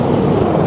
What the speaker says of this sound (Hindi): वैसे काफ़ी बड़ा हेलीकॉप्टर है